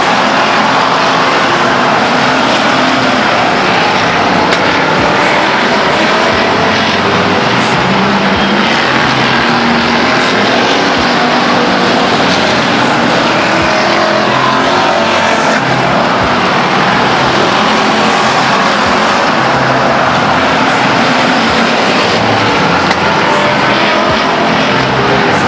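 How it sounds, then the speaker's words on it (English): Race cars lap Stockton 99 Speedway as a dense, continuous engine roar at a steady high level, with no breaks in the noise. "Cars going down laps now as our leader begins to pass."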